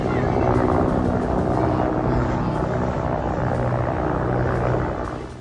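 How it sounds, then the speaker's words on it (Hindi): Four Pakistani army helicopters fly toward a site in Balochistan, their rotors and engines making a loud, continuous broadband roar that holds steady and then begins to fade at the end. "ये पाकिस्तानी सेना के हेलीकॉप्टर हैं जो बलूचिस्तान में उस जगह जा रहे हैं"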